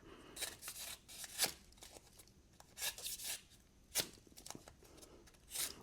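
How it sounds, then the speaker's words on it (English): Tape is pulled and pressed onto a knife blade in a string of short, crisp ripping and rubbing bursts, close and quiet, with pauses between them. "Get some tape on it."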